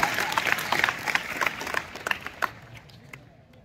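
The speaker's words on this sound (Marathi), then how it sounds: "पाहुण्यांचं जोरदार टाळ्यांनी स्वागत करा" An audience at a school event applauding to welcome guests, dense close clapping that thins out and fades into a few scattered claps at the end.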